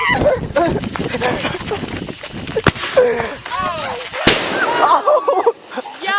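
Homemade redneck fireworks bang and pop in a few sharp bursts amid excited shouting and dog barking outdoors, the cracks brief and loud against steady chatter.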